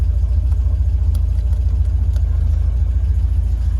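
A 1973 MGB Roadster's engine idles steadily, a close, even, low rumble that holds without change for a few seconds.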